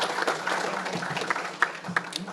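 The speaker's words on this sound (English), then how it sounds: "Please give him a round of applause as he comes forward" Scattered audience applause at a civic club luncheon panel as a guest comes forward, a loose patter of clapping with a few sharper individual claps and some voices mixed in.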